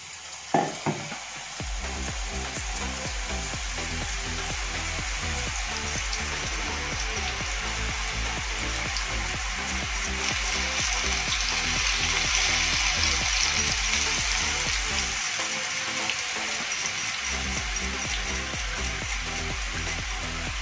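Boondi drops frying in hot oil for motichoor laddoo give a steady, dense crackling sizzle that runs throughout at an even, close level, with no talk over it.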